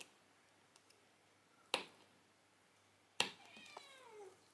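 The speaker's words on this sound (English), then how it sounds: "hear my cat meowing" A pet cat meows twice, a short faint cry and then a longer, clearer wavering meow, close by in an otherwise quiet room with small clicks in the background.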